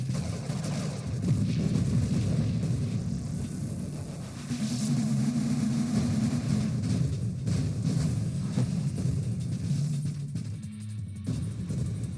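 A dense, continuous low rumble of booming video game explosions and roaring engines in Nova Drift keeps going throughout, with no talking.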